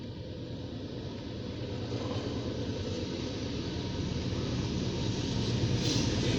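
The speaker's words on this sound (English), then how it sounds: "We got an NS train." A Norfolk Southern mixed manifest freight train rolls by near Erie, Pennsylvania, during a meet with a CSX train. Its low rumble and steady rolling noise grow gradually louder and stay continuous, without talking.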